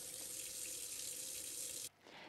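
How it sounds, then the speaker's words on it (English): Water runs from a tap onto a spoon in a steady, close hiss that cuts off abruptly near the end, leaving a softer trickle; nobody speaks. "You can also try this with a spoon and running water."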